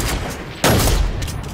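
Gunfire in a first-person shooter video game, a sharp burst of rapid shots breaking out midway, loud and close, followed by a few fainter cracks.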